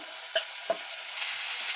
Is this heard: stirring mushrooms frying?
yes